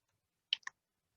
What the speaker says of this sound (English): Can you try press the arrow, move to the right on the keyboard instead?